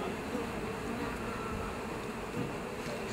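A dense, steady buzz of many honeybees, tens of thousands gathered for a bee beard, hums continuously at close range, with no voices over it.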